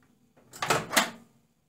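Two quick, sharp clicks about a third of a second apart, close and alone, from pressing the buttons on a Samsung ME88SUW microwave oven.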